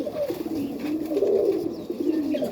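A Serbian Highflyer pigeon in a loft in Melbourne, Australia coos in a soft, low, rolling burble that swells and dips over a couple of seconds, close and alone.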